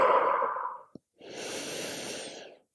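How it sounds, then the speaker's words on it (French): Slow, deep breaths in yoga puppy pose, Anahata Asana: a long audible exhale, a brief pause with a small catch, then another drawn-out breath, close and quiet. "On va prendre 4 à 5 respirations ici."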